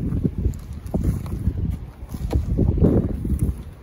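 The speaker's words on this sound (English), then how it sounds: "It's a bit windy, but I should be fine." Wind gusts buffet the microphone at a seaside viewpoint on top of a public library in Candelaria, Tenerife, with a low, rumbling roar that swells and fades over a few seconds, and no voices.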